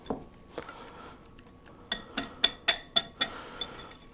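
Cheese being mixed into a tomato pancetta frittata egg mixture in a bowl: a few scattered clinks, then a run of six sharp, evenly spaced utensil taps against the bowl, close and clear.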